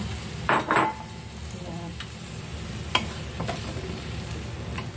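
Egg poured into hot oil in a pan for an okra omelette, a soft sizzle and frying hiss with a couple of stirring scrapes and light utensil taps, close and steady, no talking.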